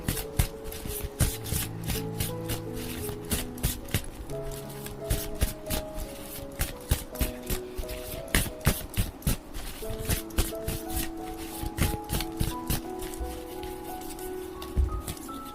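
Oracle cards are shuffled by hand in a quick, uneven run of papery riffles and soft slaps, close and crisp, with faint background tones beneath.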